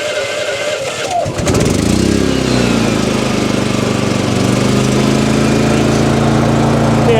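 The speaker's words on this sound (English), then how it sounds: "let's get this generator fired up" A Champion 8750 tri-fuel portable generator running on propane in roughly 15°F cold cranks with a short pull-start burst, then catches and settles into a loud, steady, close engine drone.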